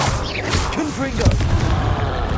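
Confringo blasting spell going off in Hogwarts Legacy, a continuous stretch of booming, crackling bursts with some mechanical creaks, loud throughout, and a voice speaking over parts of it.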